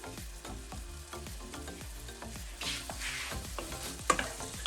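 Prawns fry in a wok after a splash of Chinese cooking wine, with a steady sizzle, stirring scrapes and clinks close by, and a louder burst of hissing as the liquid hits the hot pan.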